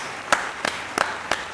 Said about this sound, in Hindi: ये वाली ताली आपके लिए